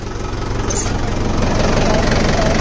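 Mahindra 575 DI XP Plus tractor with about 174 hours of use, its diesel engine idling close by in a steady low, knocking throb that grows slightly louder.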